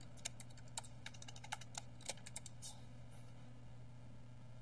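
Keystrokes on a computer keyboard typing a name into a software field, a quiet irregular burst of light clicks over a steady low hum, alone without talk.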